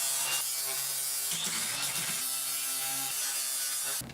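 Metal parts for a marble machine get a light deburring, a close, steady scraping and rasping with a few brief pauses and a sharp catch near the end, with no talking.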